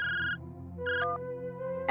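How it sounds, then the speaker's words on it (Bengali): A phone rings with an incoming call: a bright, repeating electronic ringtone plays in short bursts, pausing between phrases and then sounding again. The ringing is loud and close, with no talk over it. "এই হুলোদা ফোন করছে।"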